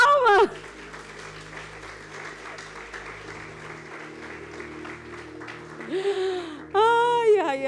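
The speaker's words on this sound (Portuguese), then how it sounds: "Dá uma salva de palmas." A church congregation gives a round of applause, a dense patter of clapping running beneath a preacher's amplified voice and sung tones.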